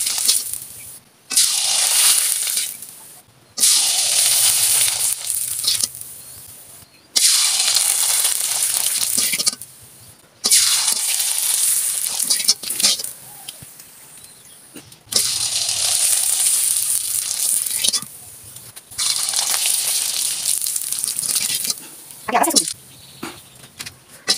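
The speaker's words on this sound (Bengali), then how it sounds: "তো আমি এগুলাকে এখন ভেজে তারপর আপনাদেরকে দেখিয়ে দিচ্ছি।" Batches of pitha cakes deep-fry in hot oil in a wok, each drop setting off a loud, close, hissing sizzle that runs for a few seconds and then falls quiet, repeating about five times.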